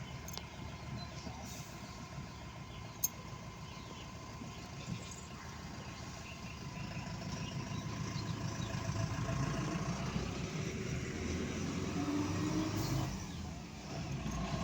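A van's engine runs steadily at idle close by, a low continuous rumble that grows slightly louder and fuller toward the end, with faint background noise and no talk.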